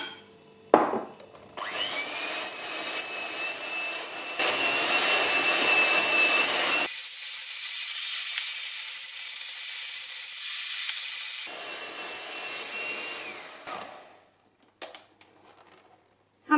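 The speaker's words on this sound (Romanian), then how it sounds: "Când pâinea s-a încorporat, adăugăm câte puțin ulei și continuăm mixarea." A blender whirs in several separate bursts as it mixes fish roe salad with bread and oil drizzled in, a loud steady motor whine that stops and restarts, then fades to quiet.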